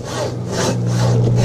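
A hand saw rasps back and forth through wood in steady strokes, loud and close, cutting a log outdoors on a trail.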